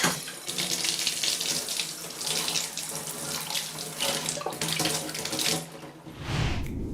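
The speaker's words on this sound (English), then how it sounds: "After that, you're going to need to rinse them. If you have a sink-mounted sprayer," A sink-mounted sprayer runs water for rinsing wine bottles before bottling, producing a steady, close hiss and splash of water into a sink that continues throughout with small shifts and no talk.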